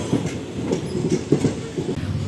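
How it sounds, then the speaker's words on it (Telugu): A passenger train departs Tenali Junction, rolling past with rhythmic clickety-clack of wheels over rail joints, steady and fairly close. "తెనాలి జంక్షన్ నుంచి ఇప్పుడే ఒక ట్రైన్ అయితే బయలుదేరింది"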